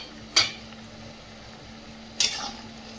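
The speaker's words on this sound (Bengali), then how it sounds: "কলার তরকারিটা ঢাকনাটা খুলে দেখে নেব।" A metal pot lid lifted off a simmering banana curry, two brief clinks of the lid against the pot over a quiet kitchen background, with faint low bubbling between them.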